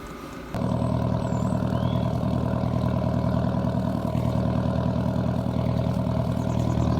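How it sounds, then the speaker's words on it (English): A diesel heater runs steadily aboard a boat on the water, a low droning hum with fast, regular ticking and a constant rush of blown air, unchanging after it starts. "You'll hear the ticking in the background and some air. That's actually my diesel heater running."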